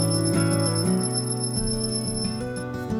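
A bell rings with sustained metallic tones and shifting pitches layered together, continuous and fairly loud throughout.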